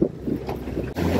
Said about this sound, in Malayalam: കാറ്റുള്ളത് കൊണ്ട് നല്ല വേവ്സ് ഇപ്പൊ ഉണ്ട്.